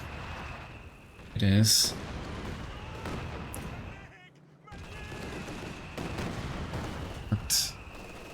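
An artillery barrage in a competitive strategy video game match sounds as booming impacts that stand out in two brief loud bursts over ongoing battle noise, with commentators talking throughout.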